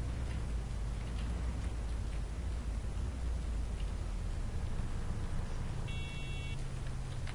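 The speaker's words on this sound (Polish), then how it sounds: "Jeszcze pada." Constant hiss of steady rain in the truck-driving game 18 Wheels of Steel: Haulin, with a low rumbling drone beneath, unbroken throughout, and a brief electronic beep near the end.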